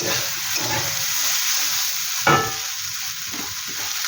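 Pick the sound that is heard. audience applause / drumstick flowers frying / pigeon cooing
drumstick flowers frying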